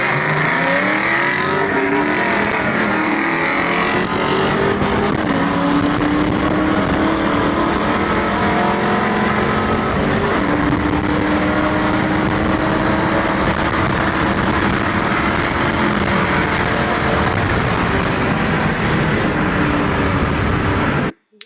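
A 2001 Ford Mustang Bullitt with bolt-ons, gears, headers and a tune races: a loud, close V8 roar climbing through rising revs and gear changes in one sustained pull, ending abruptly.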